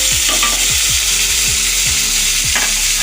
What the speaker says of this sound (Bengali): আর দেবো টমেটো এটি হালকা করা একটু ভেজে নেবো দু মিনিটের মতো